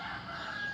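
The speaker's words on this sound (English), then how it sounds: "The rooster's crowing saying it's time to get up." A rooster crows in the distance, a faint drawn-out call above quiet outdoor ambience.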